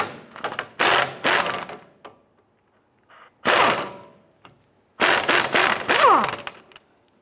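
Ratchet with a 19mm deep socket working loose the upper strut nut on a 2005-2010 Chrysler 300, heard as several short bursts of close, rapid clicking separated by brief pauses, with no talk.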